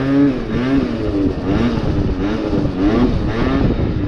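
A Yamaha Zuma drum-brake scooter engine revs repeatedly as the throttle is blipped, each rise in pitch louder than the last, close and steady with no talk.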